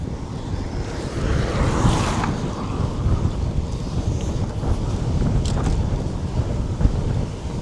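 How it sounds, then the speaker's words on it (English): Strong headwind rushing over a cyclist's microphone on a rural road, a loud continuous low roar with gusty swells throughout and no talking. "Front-facing wind again."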